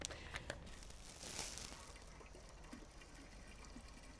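Spring water at Wagonhammer Spring trickles into a small measuring container, a faint, steady wash of running and filling water with no voices.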